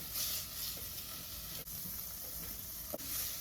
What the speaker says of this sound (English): now the bacon is starting to render and cook